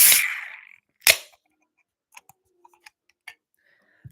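A BrewDog beer tin cracks open with a sharp pop and fizzing hiss, followed by a second crack-like snap and then a few faint small clicks and taps.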